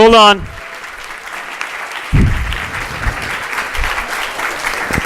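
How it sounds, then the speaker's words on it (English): A crowd at a leadership speaker series breaks into loud, steady applause with sustained clapping, right after a brief tonal sound at the start. "Yes, please, big round of applause."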